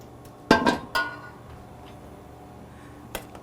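Bechamel sauce poured over macaroni pasta and stirred in, with a cluster of loud clinks and scrapes of a utensil against the dish early on, then quieter handling and one more knock near the end.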